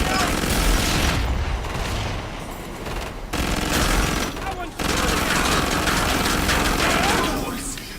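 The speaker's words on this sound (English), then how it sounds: "Now, I shall just shoot you." Gunfire in the shooter game Killing Floor 2 crackles loudly in sustained automatic bursts, broken by brief pauses, with booms and mechanical noise mixed in and a voice talking over the shooting.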